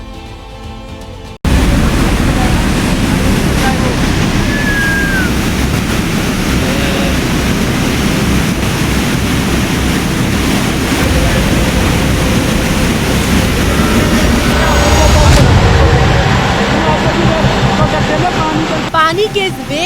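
Floodwater rushes at Yamunotri with a loud, unbroken roar of churning water, close and overwhelming, swelling slightly partway through.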